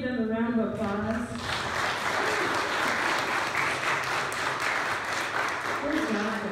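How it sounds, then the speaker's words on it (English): An audience claps in a church service: steady, full applause fills most of the clip, with a voice audible at the start and again as the clapping fades. "Can we give them a round of applause?"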